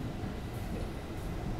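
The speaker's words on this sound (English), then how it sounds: "Train." A train heard while travelling to a mountain hike in South Korea: a steady, loud rumble of the rail car with a continuous rattling clatter throughout.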